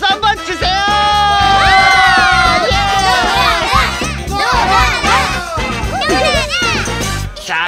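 An audience of excited children cheers and shouts as a pop singer arrives at a song-release event, a loud, close burst of many high voices that swells, dips and rises again throughout.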